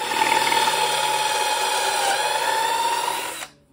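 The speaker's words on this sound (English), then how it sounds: "I'll be able to drill into the sides of the boards" A power drill bores pocket holes into the sides of wooden boards through a jig, a loud, steady whirring grind held for over three seconds before it abruptly stops, close up with no talking.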